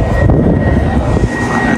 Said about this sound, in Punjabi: ਉਹ ਸਾਹਮਣੇ ਜਹਾਜ਼ ਉਤਰ ਰਿਹਾ ਉਹਦਾ